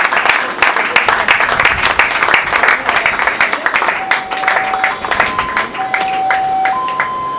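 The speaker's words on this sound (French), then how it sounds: "on applaudit énormément" Sustained audience applause at a professional training event, dense clapping filling the whole stretch at steady loudness, with a few brief tones sounding through it toward the end.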